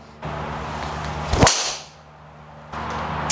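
A single sharp, ringing crack of a Titleist TSR driver hitting a golf ball, with a bright metallic ping that fades quickly against steady outdoor background noise.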